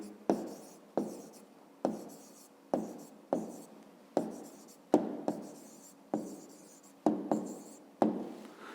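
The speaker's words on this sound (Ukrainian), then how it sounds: "Ну що ж, відповідь ми отримали, скільки паралепіпедів, і записуємо тоді відповідь." Writing the answer to a fifth-grade maths exercise by hand makes about a dozen short scratchy strokes of pen or chalk in an irregular rhythm, close and fairly quiet, with no talk.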